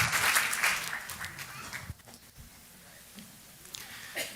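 Church congregation clapping in a burst of applause that fades after a couple of seconds, leaving scattered claps and room noise under a sermon with a pastor speaking.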